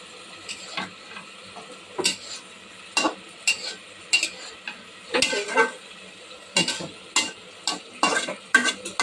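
Flat beans frying in a pan, with a steady soft sizzle under repeated scraping and clinking strokes as a utensil stirs them, close and fairly loud.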